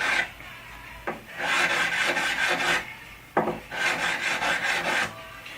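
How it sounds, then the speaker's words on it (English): Guitar frets being worked with a 300 grit file, producing close, moderately loud rasping strokes in two long bursts, each opening with a sharp scrape. "This is a 300 grit file."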